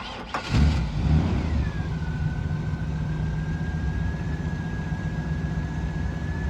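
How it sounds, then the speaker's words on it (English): A 1961 Chevrolet Parkwood engine cranks and catches with a burst, then settles into a steady idle with a faint high whine, no voices. "I think it's time that we start the car."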